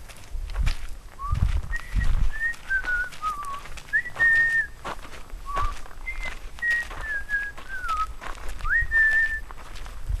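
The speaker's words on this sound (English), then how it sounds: "Sometimes when you're out here in nature, I just like to whistle." A person whistles a wandering melody of short and sliding notes outdoors in nature on the Konza prairie, with soft footsteps and rustling underneath.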